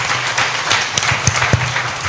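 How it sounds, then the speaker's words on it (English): Steady, fairly loud applause from an audience at a Lekki round-table event, dense continuous clapping with a few sharper claps and faint crowd murmur underneath. "please give this lady and all her colleagues a round of applause"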